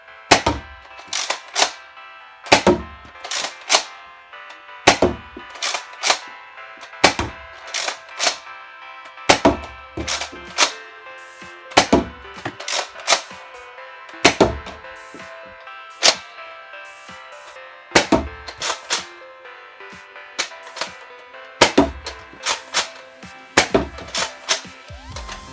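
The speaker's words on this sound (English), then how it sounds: "that was the Helios out on the range. We did a couple of firing tests with it" A Nerf Rival Helios blaster fires on an outdoor range: roughly a dozen sharp, snappy shots at an even pace a couple of seconds apart, each followed by a brief mechanical clack of priming, with no talk.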